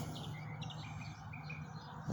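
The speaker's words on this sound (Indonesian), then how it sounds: "Kita bisa dengar suara burung-burung nyanyi" Morning birdsong at a motorcycle swap meet campout while it is still getting light, repeated thin chirps and short whistled phrases, faint and somewhat distant over a quiet steady background hush.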